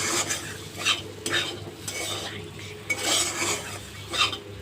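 Spatula stirring neem leaves and eggplant frying in a pan, with repeated scraping strokes in an uneven rhythm over a soft, steady sizzle.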